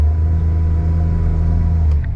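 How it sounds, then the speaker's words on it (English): A car passing on the road beside a parked Suzuki Jimny, a loud, steady low engine rumble and tyre drone that holds close throughout before a faint higher squeak near the end. "let's wait till this car passes"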